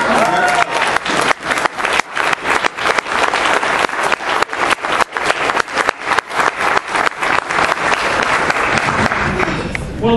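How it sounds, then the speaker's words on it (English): A crowd at a political nomination gathering stands and claps loudly, with a full, sustained round of applause and some rhythmic pulsing, and faint voices mixed into the noise. "Stand up and clap again"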